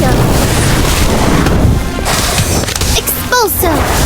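Incendio fire spell cast in Harry Potter: Magic Awakened, a loud booming, crashing burst that roars densely at first and then thins, with a short voiced call near the end.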